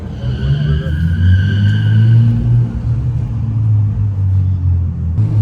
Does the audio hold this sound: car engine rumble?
yes